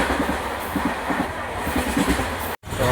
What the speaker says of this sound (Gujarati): ટ્રેનનો અવાજ જોવે નીકળે.